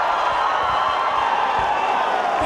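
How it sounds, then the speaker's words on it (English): A dense, continuous crowd roar of cheering and clapping fills a university singing contest hall, loud and sustained without a break. "Give yourself big clap for yourself"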